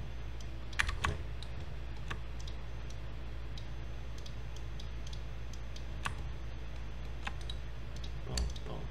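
Mouse clicks and keyboard presses during 3D hard-surface modeling at a computer, with scattered sharp clicks and a few clustered taps over a steady low room hum, sparse and irregular, close by.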